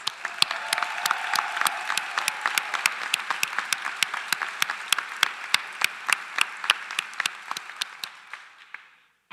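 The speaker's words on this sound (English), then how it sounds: "Please give them a big round of applause." An audience at a PA and DMSc commencement ceremony applauds graduates' friends and family, a dense, steady clapping with sharp individual claps standing out, fading away toward the end.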